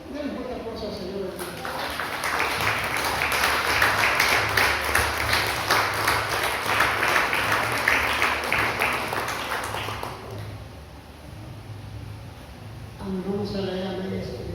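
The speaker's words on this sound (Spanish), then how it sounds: "Denle un fuerte aplauso al Señor." A church congregation gives strong, sustained applause, a dense loud clapping that builds over several seconds and fades, with a voice speaking at the start and at the end.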